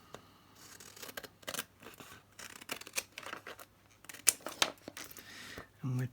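Scissors cut across paper or card during a crafting session, with a series of short crisp snips and scratchy slices in uneven bursts, close and fairly quiet against a faint steady hum.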